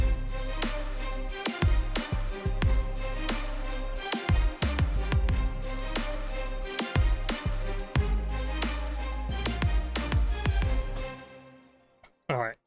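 A motivational rap beat layering a sustained choir pad under an arpeggiated synth melody, with punchy drums and bass hitting throughout, loud and dense, before the track cuts off abruptly near the end.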